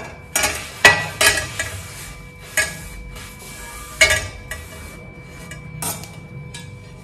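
Dry cloth wiping cast iron kadai and dosa tawa, with intermittent rubbing strokes and sharp clinks of metal, fairly close and loud, no talk.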